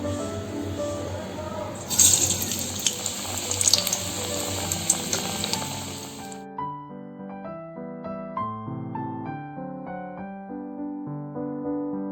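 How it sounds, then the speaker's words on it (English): Onion pakora batter spooned into heated refined oil crackles in a steady, dense sizzle with a few sharper pops for about six seconds, then music takes over for the rest. "Now I am going to pour the onion mixture with the help of a spoon."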